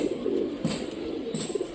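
A captive pigeon coos close by in soft, rolling low calls that run continuously through the short stretch, with no other sounds.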